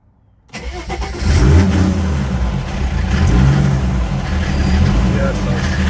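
An OM606 diesel engine swapped into a wagon cranks and catches, then settles into a loud, steady running clatter close by, with a quieter fuel pump in the system after rust removal.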